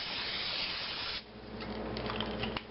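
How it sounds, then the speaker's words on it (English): Cooking spray hisses steadily onto a hot skillet for about a second, then a softer sizzle and faint crackle from the pan. "cooking spray"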